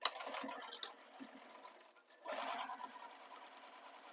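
A sewing machine stitches a fabric bag with short back stitches. There are two fast bursts of needle whirring with a brief pause between them, close and fairly quiet.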